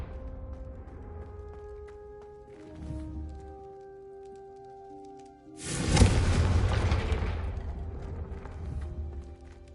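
A blasting-spell explosion in The Sims game erupts with a sudden loud boom and a crackling burst that fades over a few seconds, following a quieter stretch of soft game ambience and a smaller muffled thud.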